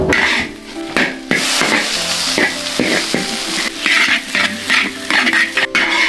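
Potatoes stir-fried in a wok on a village stove, loud sizzling broken by repeated hard scrapes and knocks of a spatula pressing and mashing them against the metal.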